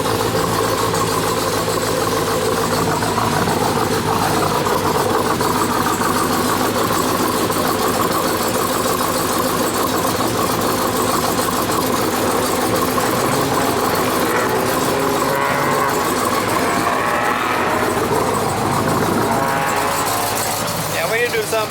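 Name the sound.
Big Cam 426 Hellephant engine idling in a TRX truck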